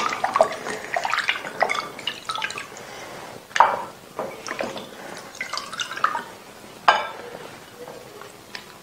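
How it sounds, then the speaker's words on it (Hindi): Raw fish being rinsed by hand in a kitchen, with water dripping and splashing in uneven bursts and a few sharper splashes, fairly close and without talk. "हम इसको 2-4 पानी और धोएंगे"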